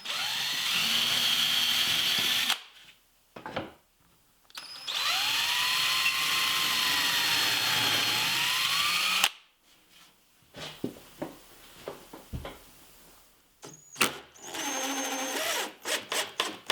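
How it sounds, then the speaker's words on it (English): A power drill bores holes through the front of a wooden bed headboard in two long, loud runs, then gives short bursts and clatter as the work is handled. "I'll drill through the front of the headboard"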